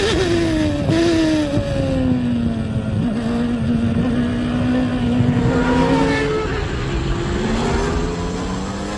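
Formula 1 cars from the 1993 season race toward the first corner, a loud, continuous engine howl whose pitch rises and falls as a leading car accelerates, with other engines layered behind.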